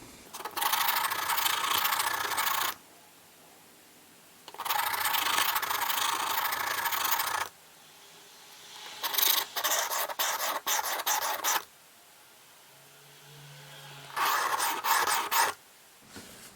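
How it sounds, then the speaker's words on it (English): A knife is sharpened on a coarse DMT diamond stone in long, loud, steady scraping strokes, roughly four separate passes with short pauses between them. "I start off on this coarse DMT diamond stone."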